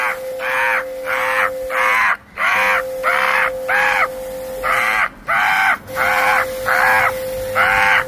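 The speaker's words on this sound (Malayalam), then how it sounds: "കാക്ക വന്ന് തുടങ്ങുന്നുണ്ട്." Crows caw loudly and close by in a rhythmic string of about a dozen harsh calls with brief pauses, over a steady faint tone in the background.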